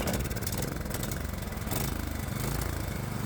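A Predator 212 small engine fitted with a swapped, bigger carburetor and stock exhaust runs at a fast, uneven putter close by, its rough chugging showing it is out of adjustment.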